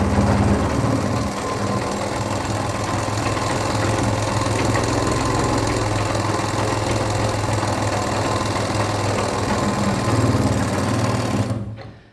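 Sewing machine stitching a straight seam in cloth runs steadily at speed, a dense loud mechanical whir and rattle that goes on without a break and cuts off at the end, with no voices.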